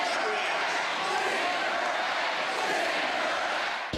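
A large crowd at a Donald Trump rally on a university campus in Greenville roars and chants steadily throughout, a dense, continuous wash of voices with no break.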